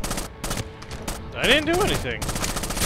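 Gunfire rattles in Rainbow Six Vegas 2 co-op combat, short bursts cutting in among voices, with a player speaking over the shooting.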